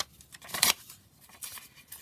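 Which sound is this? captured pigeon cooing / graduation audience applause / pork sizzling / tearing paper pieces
tearing paper pieces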